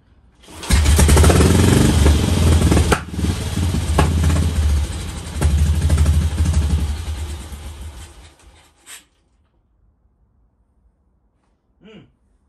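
BSA M20 motorcycle single-cylinder engine fires up and runs loud and close with a throbbing, uneven rhythm for about eight seconds, then cuts out, followed by a couple of faint pops.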